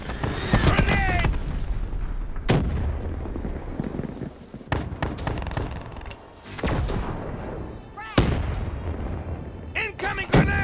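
Grenade blasts in Call of Duty: Black Ops III, several loud booms and sharp bangs scattered across a busy firefight, with voices calling out between them.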